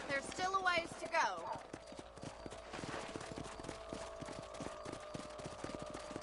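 Horse hooves clip-clop at a steady trot through most of the scene from Red Dead Redemption, with a voice over them early on and a constant background bed beneath.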